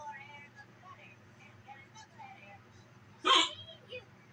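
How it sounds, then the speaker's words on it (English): A cartoon character from SpongeBob hiccups after drinking soda too fast. One sharp, loud hiccup stands out over faint background sound and quiet speech. "I think I drank too much soda too fast. Must give me the hiccups."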